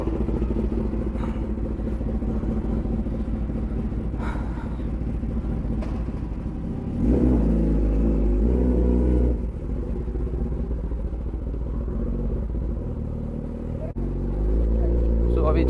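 A Kawasaki ZX-10R motorcycle rides along the road, its engine a steady close rumble with a swell of louder revving partway through, while wind noise and a rider's talk run over it.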